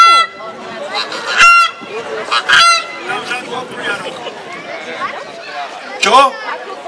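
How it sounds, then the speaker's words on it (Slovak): Wild geese honk repeatedly at a hunting festival in Mikušovce, loud, close calls in irregular bursts mixed with chattering voices nearby. "Bola toho divá hus, správne."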